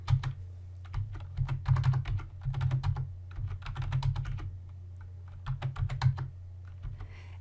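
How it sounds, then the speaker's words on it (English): Bursts of close clicking keystrokes on a computer keyboard, typed in short clusters with brief pauses between them, over a low steady hum. "And then I just type in my 5-number summary."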